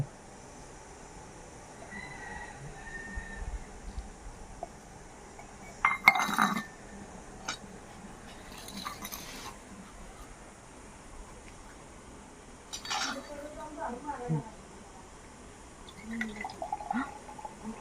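Water from a freshly cracked coconut splashes and trickles into a glass in a few short bursts, with light glassy clinks against a quiet background.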